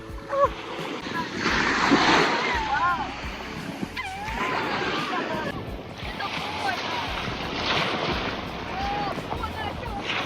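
Sea waves wash and surge continuously at a beach at the end of summer, mixed with wind buffeting the microphone and occasional splashing, with voices talking nearby.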